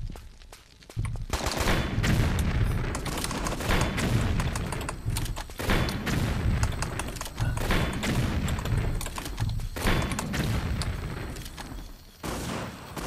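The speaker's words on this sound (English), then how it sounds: "We put the bazooka to good work there." Weapons fire in Tomb Raider 3 at the Crash Site level, including a bazooka, comes as dense bursts of loud booms and rapid gunfire separated by short quiet gaps.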